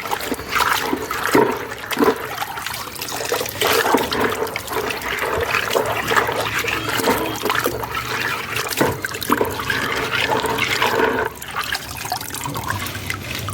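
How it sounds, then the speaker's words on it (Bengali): Pond filter media from a rooftop koi pond are rinsed clean in water, giving continuous close splashing and pouring with trickling and gurgling throughout, fairly loud and without talk. "এই যে এগুলো আর একবার এই জলে আর একবার ভালো করে ধুয়ে নেবো।"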